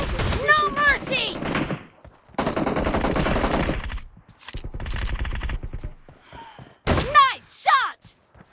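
Gunfire in the mobile shooter BGMI, with long rattling automatic bursts and single loud shots spread across the stretch, near and punchy, while game voice lines and chatter come in between the volleys.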